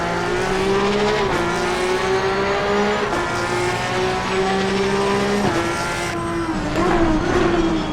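A Porsche 911 GT3 Cup in the ACC racing game at Donington Park, braking hard into a hairpin: the loud, constant engine note steps down through several downshifts with a hint of tire scrub, no talking.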